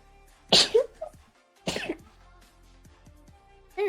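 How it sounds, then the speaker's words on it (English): Two sharp, loud sneezes about a second apart, then quiet with faint background hum and a brief vocal onset at the very end. "There's those sneezes."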